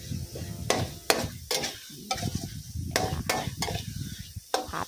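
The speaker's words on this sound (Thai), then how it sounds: "ผัดให้สุกหอมนะคะ" Thai curry paste for a catfish and cassia-leaf curry being stir-fried dry in a pan without oil, with repeated sharp scraping strokes of a spatula over a low sizzle, close and steady.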